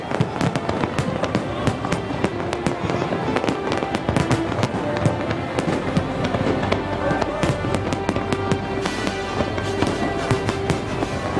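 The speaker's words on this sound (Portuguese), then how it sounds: "Florianópolis, Ponte Hercílio Luz, cartão postal da cidade, onde acontece a principal queima de fogos." New Year's fireworks display over the Hercílio Luz Bridge in Florianópolis, a continuous barrage of crackling bursts and booms layered over a murmuring crowd, loud and sustained throughout.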